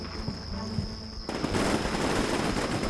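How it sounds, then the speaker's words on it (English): Rifle gunfire in the PC war game Combat Mission Shock Force 2, with dense, rapid crackling shots filling the second half after a quieter stretch of ambient noise. "The guards come under accurate rifle fire from Western weapons."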